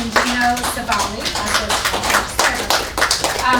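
A room full of people at a community conversation event applauds the speakers with a round of brisk clapping, mixed with voices talking and someone speaking nearby.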